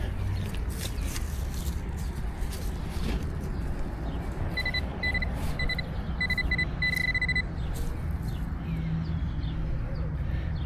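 A metal detector used for treasure hunting beeps under tree roots, a short run of high, evenly pulsed electronic tones over scraping and rustling digging noise.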